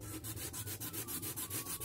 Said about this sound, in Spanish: esta cogéis y lijáis así un poco, muy poco